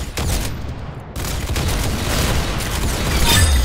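Gunfire in the video game Sandtown Legacy, a rapid burst of booming shots with sharp cracks and rolling echoes, loud and close, no talking.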